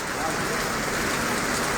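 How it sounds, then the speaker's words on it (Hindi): Heavy rain pours down on a flooded street in Tando Qaiser, Hyderabad, Sindh, a dense, steady roar of drops that fills the whole moment without pause. "तमामु घणी हैवी बारिश आहे"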